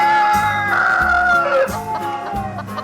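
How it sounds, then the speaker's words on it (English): A rooster crows over a bright cartoon-style music bed, its drawn-out call rising and falling for a couple of seconds, loud and close. "This is a rooster."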